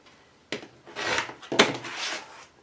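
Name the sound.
trimming fabric for a quilt block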